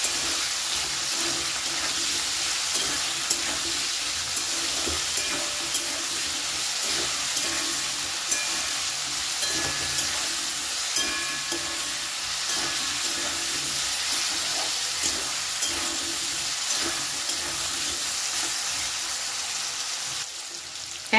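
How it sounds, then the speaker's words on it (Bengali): Salted potato pieces fry in a pan for aloo posto, giving a continuous soft sizzle with scattered small crackles and pops, steady throughout with no talking. "এক মিনিটের বেশি সময় ধরে আমি আলুটাকে একটু ভাজা ভাজা মতো করে নিয়েছি"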